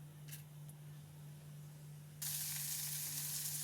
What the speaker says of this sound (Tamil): அது கடாயில் கொஞ்சம் எண்ணெய் விட்டுக்கிறேன். ஜீரகம், கொஞ்சம் கடலைப்பருப்பு